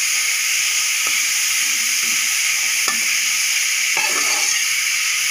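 Grated radish mixture sizzles and hisses in a pan on the stove, a steady loud frying hiss with a few soft scraping stirs.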